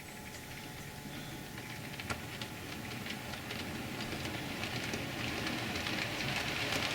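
A faint, steady rumble and hiss of a model train running along its track, with light clicking, growing slightly louder toward the end.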